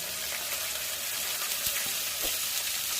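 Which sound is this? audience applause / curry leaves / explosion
curry leaves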